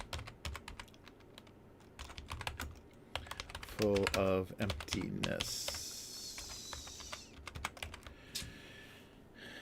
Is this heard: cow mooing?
no